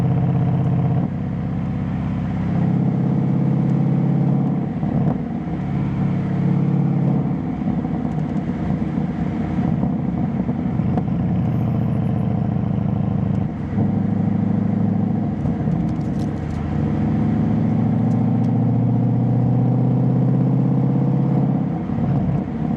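A Ford Mustang engine drones steadily while driving a winding Southwest Virginia mountain road, heard from inside the car with a continuous low rumble and slight swells, no talking.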